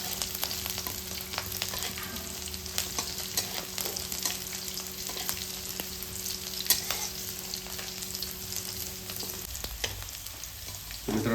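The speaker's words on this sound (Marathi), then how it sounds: "आता जोपर्यंत लसूण असं ब्राऊन होत नाही आणि मिरची नाही का चांगली फ्राय होत नाही, तोपर्यंत तुम्हाला असं चांगलं हलवत राहायचं आहे, मिक्स करत राहायचं आहे आणि फ्राय करून घ्यायचं आहे" Garlic and green chilies fry in a pan with a steady, close sizzle, broken by frequent scraping and clattering as the spoon stirs, continuing without pause and with no talking.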